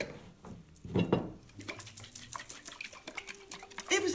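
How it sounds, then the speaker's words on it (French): Linseed oil and water are mixed for tempera paint in a small container, giving quick, uneven clinks and scrapes of a utensil against the vessel, close and fairly quiet. "on va rajouter de l'huile de lin et on va rajouter de l'eau. Voilà. Vous allez bien tout mélanger."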